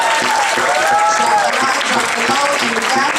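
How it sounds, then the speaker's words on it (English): A crowd at a Nuyorican poetry slam claps and cheers for a poet, a loud, continuous wash of applause with voices and whoops woven through it. "Clap for that poet."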